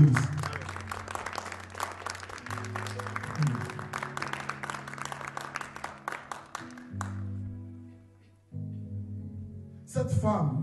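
A church congregation applauds with dense, sustained clapping alongside organ-like held chords. The clapping fades out partway through, leaving the music, then returns in a short burst at the end.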